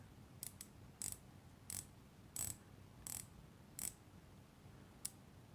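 A Tudor dive watch bezel turns in a series of crisp, close, quiet ratcheting clicks, about eight short bursts spaced roughly half a second apart against near silence.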